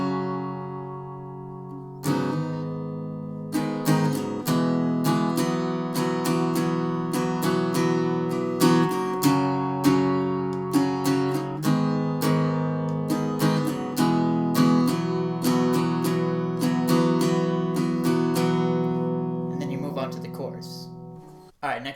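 An acoustic guitar plays both verse parts of a song in a cover version, with about twenty seconds of steady rhythmic strummed chords played alone and up close, ending in a few muted scrapes.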